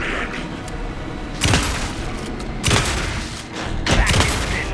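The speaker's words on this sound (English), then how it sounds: "Anderson, pin him down with gunfire for me to get the light on him." Several loud bursts of gunfire in the video game Alan Wake 2, spaced about a second apart over a steady rumbling in-game background.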